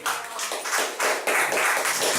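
Church congregation clapping in applause during a Spanish and Papiamento service, a steady dense patter of many hands that swells in waves over about two seconds, loud and fairly close.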